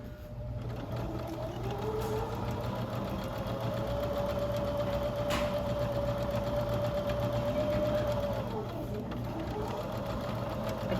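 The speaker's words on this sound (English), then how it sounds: "I'm going to do a 1/4 inch stitch from the edge." A sewing machine runs a quarter-inch seam with a small stitch length on a garment, humming steadily and at moderate volume from start to finish with no pauses.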